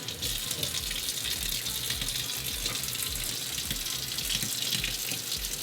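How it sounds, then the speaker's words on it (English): Fresh cilantro and parsley rinsed under a running kitchen tap, a steady close hiss of flowing water splashing over the leaves with no talk. "Cilantro and parsley. I'm going to rinse that."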